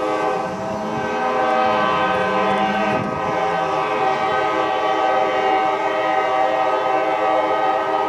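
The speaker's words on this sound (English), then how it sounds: "There's gonna be another train coming." A train rumbles past up close with a loud, sustained horn blaring over the steady roar of its wheels.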